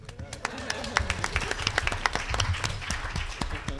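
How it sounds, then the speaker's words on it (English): Audience clapping at a national early-childhood education conference, a small group's sparse, uneven claps close to the microphone over murmuring voices. "We could clap on that one"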